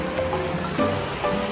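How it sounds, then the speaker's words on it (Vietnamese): A mountain stream near Bảo Lộc rushes steadily, a continuous broad wash of flowing water close by, with faint brief tones rising over it and no talk. "Đây là con suối nè."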